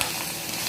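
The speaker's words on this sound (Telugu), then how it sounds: "ఇదిగో కొత్తిమీర వేసి ఒకసారి తిప్పుకొని" Coriander is stirred into a hot tempering with asafoetida in a pan, meant for curd rice. It gives a loud, steady, close-up sizzle with no talking.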